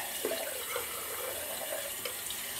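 Cold tap water runs steadily into a sink as a razor is rinsed, a constant close hiss and splash with slight changes where the blade passes through the stream.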